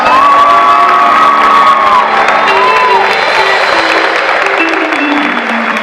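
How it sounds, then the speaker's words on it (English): A large school assembly crowd applauds and cheers steadily and loudly for performers, with a whistle cutting through at the start. "let's give these performers another round of applause."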